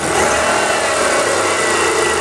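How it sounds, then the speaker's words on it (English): A Chrysler convertible engine with a failing fuel pump runs steadily and loudly throughout, with a continuous broadband drone and no distinct revving rise, and no talk over it. "So when you give it throttle, it falls on its face."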